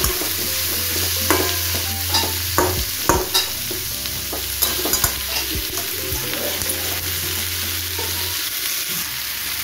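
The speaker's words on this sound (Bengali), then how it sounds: "দেখুন আমার পেঁয়াজ রসুনগুলো অনেকটাই ভাজা ভাজা হয়ে গেছে।" Chopped onion and garlic sizzle in a frying pan, with a constant hiss broken by repeated metal spatula scrapes and stirring clinks, close and fairly loud, no talking.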